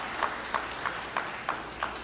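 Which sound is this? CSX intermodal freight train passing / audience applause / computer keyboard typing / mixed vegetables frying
audience applause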